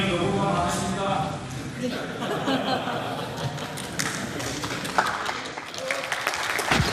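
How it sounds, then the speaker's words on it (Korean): Clapping from a crowd of lawmakers in the National Assembly chamber, a dense continuous patter heard throughout under voices talking, with a few louder thumps. "박수 치지 마세요."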